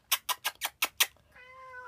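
A tuxedo cat meows six times in a quick, even rhythm, loud and close, then gives a softer sustained tonal trill at the end; no one speaks.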